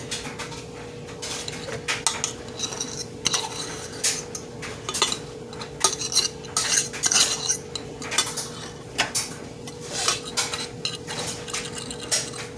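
A fork scrapes and clinks rapidly against the sides and bottom of a small pot while cooked rice is fluffed, an irregular close-up tapping and scratching that runs steadily throughout.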